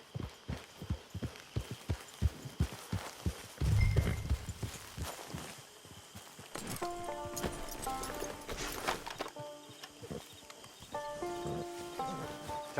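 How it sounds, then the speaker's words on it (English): Horse hooves in Red Dead Redemption 2 clip-clop in a quick, steady rhythm near the start, then fade under sustained musical tones and ambient game sound. "Get your horse."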